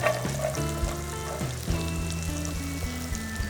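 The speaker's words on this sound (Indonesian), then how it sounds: "Ditumis hingga harum." Garlic and onion sauté in a hot pan, a steady close sizzle and crackle running under a strong tonal hum with a few stirring bumps.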